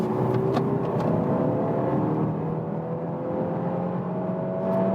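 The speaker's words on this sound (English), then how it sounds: "if we are at 85 kilometers an hour, let's accelerate to 120" A 2022 BMW 2-Series Active Tourer accelerating in sport mode from about 80 to 120 km/h, heard from inside the cabin as a steady engine and road hum with a slowly rising whine.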